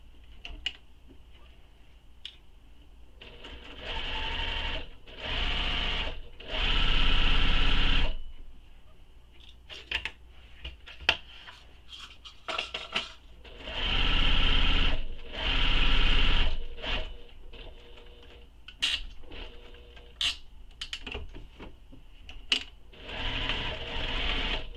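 A sewing machine stitching a tote bag at zero stitch length, running in several short loud bursts separated by pauses with small clicks and handling noises, close by.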